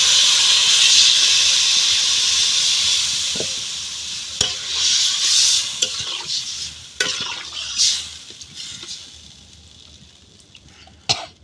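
Curry in a pan sizzles and hisses loudly with steam after water is added, then quieter stirring scrapes and clinks come through as the sizzle fades toward the end.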